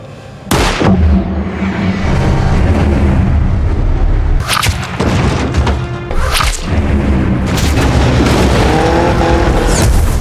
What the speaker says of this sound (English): Jack was driving the truck in circles inside the farm